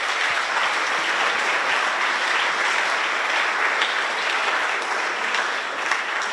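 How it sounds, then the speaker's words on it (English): A crowd at a school robotics challenge event applauds steadily throughout, a dense, even wash of clapping with no talk over it. "let's give our participants one more round of applause"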